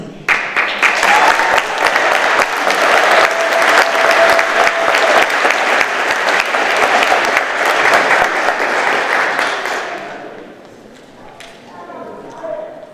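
Audience applause for honorees at a police department annual service awards ceremony; loud, sustained clapping that fills the room for about ten seconds before dying away, with faint voices afterward.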